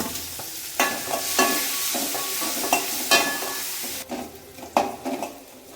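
Onions frying with curry leaves and coriander in a pan, a hot sizzle with repeated scraping stirs and clanks of a spoon on metal, fairly loud and close with no talk.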